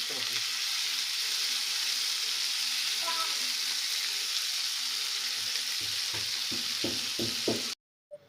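Fish tava fry sizzling steadily in a pan, a loud continuous hiss with a few soft knocks near the end as the fish is turned, then a sudden cutoff.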